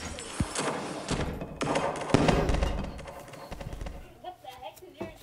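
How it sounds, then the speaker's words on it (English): A firework crackles and bangs in a rapid burst of pops and thuds, fading out to scattered bird calls. "Then I set the firework on fire."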